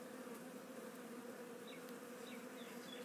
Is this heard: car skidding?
no